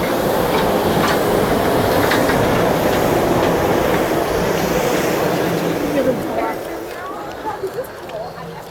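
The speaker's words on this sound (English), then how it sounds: "Monorail, there's a monorail incoming." A Disney monorail rolls into EPCOT with a loud, steady rumbling rush that fades and slows toward the end, and people talk over it.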